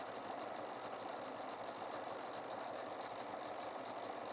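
A Bernina 990 sewing machine stitches fabric at a steady run, a close, even mechanical whir and hum with a fine rapid ticking of the needle that holds throughout without pause.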